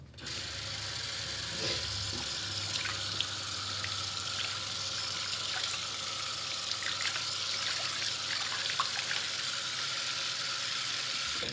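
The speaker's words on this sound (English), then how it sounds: "So what I do is just some hot water." Water runs steadily from a tap for several seconds, a constant hissing splash with faint clinks and rattles underneath.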